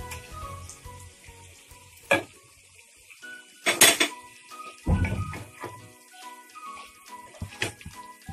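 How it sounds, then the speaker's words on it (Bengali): Pieces of chithol fish go into a pan of frying spice paste, with sharp clinks of utensil against pan, a loud splattering burst and a steady sizzle between the clatter. "মশলা থেকে তেল ছেড়ে গেছে, এবার মাছটা আমি এর মধ্যে দিয়ে দিচ্ছি।"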